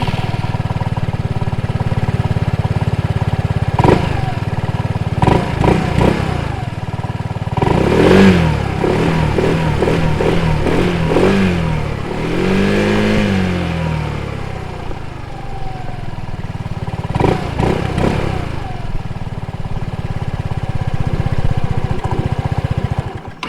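A 2023 Kymco Agility S scooter engine hums close up during a test ride, rising and falling through several revving surges with wind buffeting and a steady drone between them.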